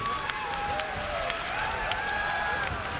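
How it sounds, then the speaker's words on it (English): A loud crowd at a ONE Championship fight roars and cheers in a steady, dense wash of noise, with scattered claps, whistles and rising shouts close around. "This crowd is loud."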